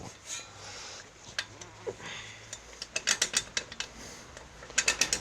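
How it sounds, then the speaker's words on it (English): Metal exhaust pipe being wiggled and worked loose from a Vulcan Classic 1500 motorcycle, faint scraping and rubbing broken by sharp clicking, ratcheting taps that cluster into quick bursts toward the end. "We're going to wiggle this pipe off."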